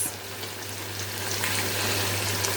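Marinated meat frying in ordinary oil mixed into the marinade, a steady close hiss and crackle of sizzling that holds level throughout, with no talk over it.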